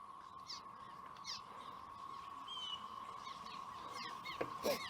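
Birds call near a bridge over a freshwater fishing spot, with scattered chirps and cries coming and going over a steady whine from a trolling motor running in reverse.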